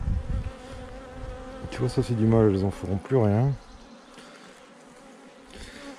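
A swarm of honeybees hums around hive frames during work to split off new colonies from brood frames, a steady close drone under a beekeeper talking in French.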